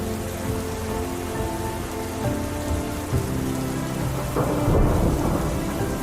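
A rainy-season thunderstorm in the African grassland brings steady heavy rain pattering on surfaces beneath deep, rolling rumbles of thunder that build toward a louder crash near the end.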